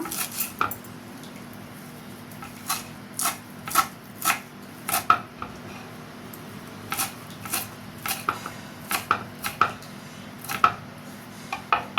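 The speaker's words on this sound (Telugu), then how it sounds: "ఫస్ట్ ఒక రెమ్మ కరివేపాకు ఇలా సన్నగా కట్ చేసుకుంటున్నా. కొత్తిమీర కోసుకుందాం." A knife chopping curry leaves and coriander finely on a board, giving crisp, sharp taps in an uneven, steady rhythm, close and fairly quiet over a low background hum.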